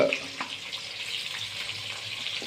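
Bay leaves and onion frying in oil for a thin mutton curry with potatoes, cooked outdoors at a picnic: a steady close sizzle with faint clinks of stirring and no talking.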